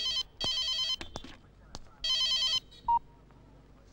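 A telephone rings in repeated electronic bursts, two long trilling rings separated by gaps, loud and close, with a short tone and faint background sounds between.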